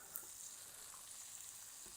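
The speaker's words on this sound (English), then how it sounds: "Hear that little sizzle start to happen." Shrimp sizzle quietly in a pan, a soft, steady crackling hiss with tiny pops, heard alone at low volume.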